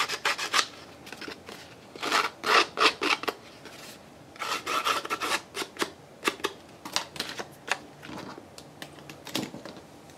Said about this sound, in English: So I'm just going to run my scissors along here and kind of rough it up a little bit.